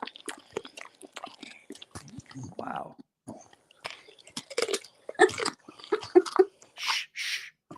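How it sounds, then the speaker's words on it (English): A dog happily crunches on vegetables at close range, with bursts of wet chewing and biting spread through the stretch, mixed with short, quiet human murmurs and a soft exclamation. "it's a thing to listen to dogs crunching on vegetables"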